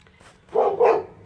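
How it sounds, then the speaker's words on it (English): Dogs bark twice in quick succession, loud and close, from a newly built dog house with nails ground down inside; the barks stand alone with no talking. "They're barking away right now."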